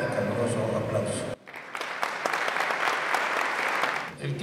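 An auditorium audience applauds to welcome the first keynote lecturer at a mathematics lecture. A voice heard at the start cuts off, then dense applause from many hands swells and holds steady before thinning out.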